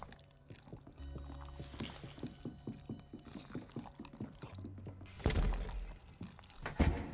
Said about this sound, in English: Guess we're just gonna have to listen to flush noise the entire time we're here